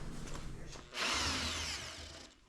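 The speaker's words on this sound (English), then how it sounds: "Turn your drill the other way" A power drill spins the oil pump of a Chevy 350 small block engine during final assembly, a loud steady whirring that starts abruptly and runs for over a second before tapering off, close by with faint workshop noise before it.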